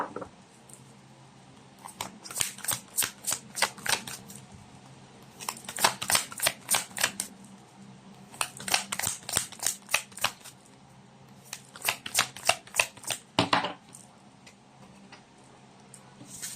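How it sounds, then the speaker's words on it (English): Tarot cards being shuffled for a pick-a-card reading, heard as bursts of crisp, rapid riffling clicks that start and stop several times, close and fairly loud with no talking. "let's try to pull up another set of cards."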